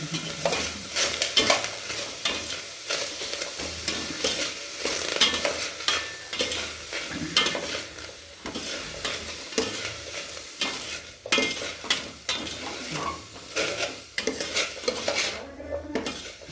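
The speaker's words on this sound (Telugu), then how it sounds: "టమాటా ముక్కలు వేయాలి, క్యారెట్ వేసేయాలి. ఇవన్నీ ఒక 2-3 minutes వేయించాలి. బాగా సిమ్లో వేయించాలి." Tomato and carrot pieces fry in a pan for an oil-free mint rice, with a spoon scraping and clanking against the metal over a soft sizzle, steady and close, no voices.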